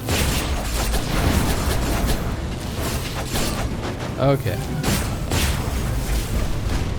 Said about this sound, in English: Are you just summoning explosions all the time?